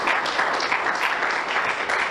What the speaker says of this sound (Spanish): ¿Quiere darle un aplauso al Todopoderoso?